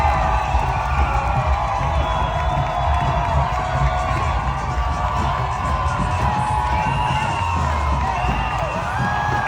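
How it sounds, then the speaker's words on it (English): A large outdoor crowd at the Chicago Pride parade cheers and whoops continuously, a dense wall of voices and shouting that holds at full strength throughout. "The biggest cheer of the day was at the end."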